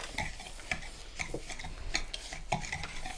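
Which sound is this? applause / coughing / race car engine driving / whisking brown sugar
whisking brown sugar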